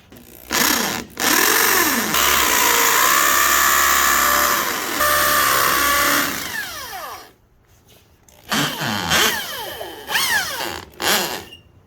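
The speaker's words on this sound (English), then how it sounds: "as you can hear when we push the bit through, it sounds like we're dealing with concrete rather than wood" A power drill grinds loudly into concrete for several seconds, stops, then whirs again in shorter, uneven bursts with brief pauses between.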